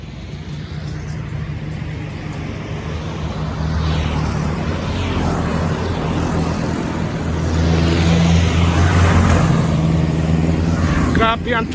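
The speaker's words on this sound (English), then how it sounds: "Grabe ang traffic dito, lalo na during peak hours." Steady roadway traffic noise on the first Mactan Mandaue Bridge in Cebu during busy hours, a continuous engine rumble that swells louder in places, with someone speaking over it.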